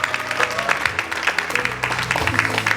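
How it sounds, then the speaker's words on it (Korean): An audience at an education roundtable forum in Uiseong, Korea claps for an arriving local official. The applause is steady and dense, with crisp, closely packed claps sustained throughout at a moderate distance. "큰 박수 부탁드립니다"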